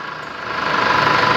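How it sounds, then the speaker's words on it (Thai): A Chevrolet Trailblazer's engine settles into a steady idle, a close, continuous mid-pitched hum with a rhythmic pulse that swells slightly after the first half second, heard alone without talk. "สตาร์ทเครื่องยนต์เลยครับ"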